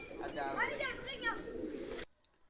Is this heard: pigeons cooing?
yes